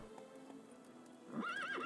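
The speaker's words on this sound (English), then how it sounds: "Have Roach come to you" Geralt's horse Roach in The Witcher game gives a clear rising whinny after a stretch of soft hoof clip-clop, close and alone with no talking.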